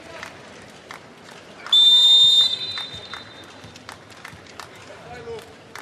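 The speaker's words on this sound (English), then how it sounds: "the referee blew his whistle" Referee's whistle at a men's volleyball World League semifinal between Serbia and Italy, one loud shrill blast lasting about a second over steady arena crowd noise.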